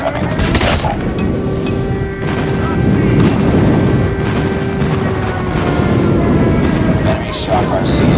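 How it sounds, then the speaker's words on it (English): Airstrike explosions in Call of Duty Mobile, a dense run of booming blasts and gunfire-like bursts layered over a constant loud rumble, with game voice callouts mixed in. "Enemy airstrike incoming."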